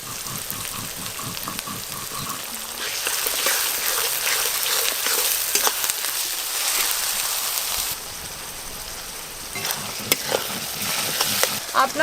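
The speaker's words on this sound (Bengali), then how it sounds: "রসুন পেঁয়াজ তো ভাজা ভাজা হয়ে গেছে" Chopped onion with garlic paste fries in hot oil for mutton curry, a steady sizzle with the spatula scraping and stirring through the pan in irregular strokes.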